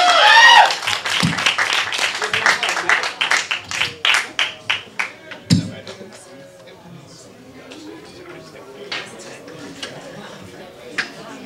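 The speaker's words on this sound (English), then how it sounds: "Let's clap it up for Jesse Bradshaw, everybody. Clap it up." Audience at an open mic night at the Brew House Gallery breaks into loud clapping for a performer, a dense burst that thins into scattered claps after about six seconds while a voice talks over the start.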